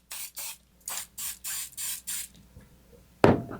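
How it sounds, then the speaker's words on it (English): Spray adhesive sprayed onto a part of an Apogee Nike Hercules model rocket, seven short hissing bursts in a quick, regular rhythm, close and fairly loud, followed by a brief clunk. "so now I'm going to spray this side"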